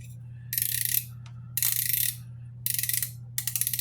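Shadow Symbol rear bicycle hub with sealed bearings freewheeling, giving four bursts of rapid, bright ratchet clicking separated by short pauses, close and fairly loud over a steady low hum.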